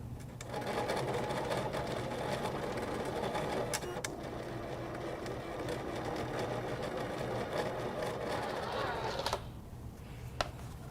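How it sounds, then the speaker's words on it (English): A Maker cutting machine with a fine embossing tool loaded in its first carriage works foil for a notebook cover, giving a steady mechanical hum and whir that runs without a break at a moderate level with a few soft clicks. "once the machine is done embossing, we can gently remove our tape"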